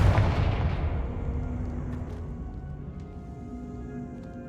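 The Confringo spell is cast in Hogwarts Legacy, a loud booming blast that strikes at once and then rolls away into a long fading rumble with faint ringing tones.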